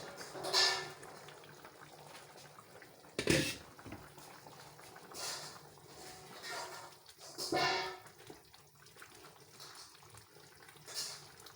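A pot of rice and vegetables bubbles on the stove, giving a soft boil with intermittent louder bursts, lid and pot clatter, and occasional quiet talk nearby.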